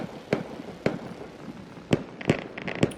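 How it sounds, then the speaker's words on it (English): Several sharp fireworks bangs go off at irregular intervals, five distinct pops over a faint crackling background, moderately loud and somewhat distant. "Fireworks."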